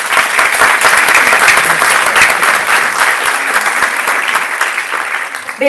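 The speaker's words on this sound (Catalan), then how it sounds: "Un aplaudiment per ells i per elles." Audience applause for teachers who took part in a school reading-aloud contest in Alt Maresme, a dense, steady ovation from a full hall that holds for several seconds at a loud, even level with no talk over it.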